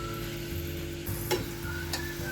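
A small onion dropped into hot oil for tempering crackles and sizzles close up, a dense steady hiss with a few brief clicks and pops across two seconds.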